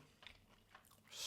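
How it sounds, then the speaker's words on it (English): A bite of a soft shell crab spider sushi roll with soy sauce is chewed close up, giving a few quiet, crisp crunches that build to a louder crackle at the end. "You can hear the crunch from the soft shell crab,"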